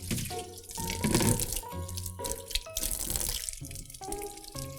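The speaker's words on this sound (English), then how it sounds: "I'm gonna turn my sink on again. And I'm gonna fill up my tub again." Tap water runs steadily into a sink and fills a tub, a continuous splashing rush with shifting tones as the flow and water level change, close and moderately loud.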